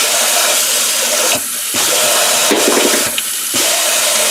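A repaired kitchen faucet with a new diverter runs loudly and close by, a steady hiss of flowing water broken by two brief changes in the stream.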